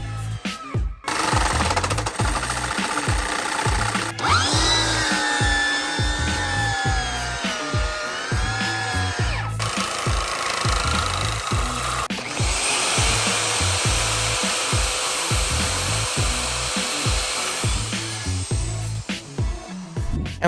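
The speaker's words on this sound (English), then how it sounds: "I'll have to use this pipe threader to literally cut threads onto the pipes for the fittings to screw onto" A pipe threader cutting threads onto metal pipes, a steady loud grinding drone with rapid rhythmic chatter and a squealing metallic whine partway through, continuous and close.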